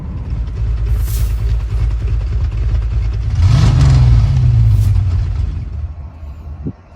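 A car engine revs and rumbles as a vehicle pulls in at an outdoor automotive car show and swap meet, a steady close engine drone swelling into a louder rev midway, then settling.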